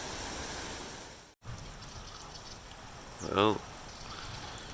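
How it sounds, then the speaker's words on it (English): Steady rain with water running down a gully toward a swollen creek, a continuous broadband wash heard up close; a brief bird call chirps over it near the end and someone speaks a word. "Just beautiful rain."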